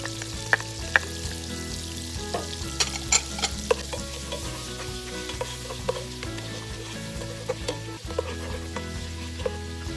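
Garlic sizzles in melted butter in a pan for a Kapampangan creamy sipo egg: a steady crackling fry with scattered sharp pops and light stirring clicks, no voices.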